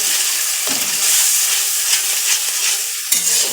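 Chili powder and turmeric sautéed in a pan, a steady close sizzle with scraping stir strokes throughout, no voices.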